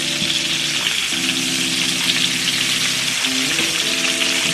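Salisbury steak patties fry in a pan with a steady, close sizzle that crackles evenly throughout, with no talking over it.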